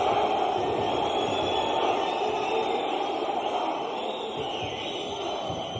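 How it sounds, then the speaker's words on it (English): A dense arena crowd roars steadily at an Eagle FC 49 main-event MMA fight, a sustained wash of cheering voices that eases slightly toward the end. "What's that crowd?"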